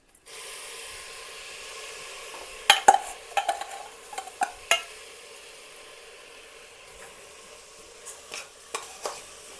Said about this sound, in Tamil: இது நல்லா இப்படி கொஞ்சம் ட்ரையா கொஞ்சம் ஃப்ரை பண்ணணும்